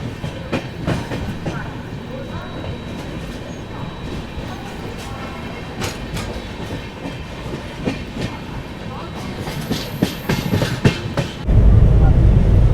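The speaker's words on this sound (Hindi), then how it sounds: "अभी ये आ गई है भाई साहब चौरी चौरा एक्सप्रेस, जो कि गोरखपुर से कानपुर के लिए चलती है।" Chauri Chaura Express, a passenger train running from Gorakhpur to Kanpur, passes close by at Prayagraj Junction with a steady rumble and repeated clattering wheel beats, joined by a deeper, louder roar near the end.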